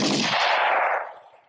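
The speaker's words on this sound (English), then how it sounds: "So over the fucking gunshot" A single loud gunshot sound effect goes off as one sharp, booming blast. It fades out over about a second, alone with no talk.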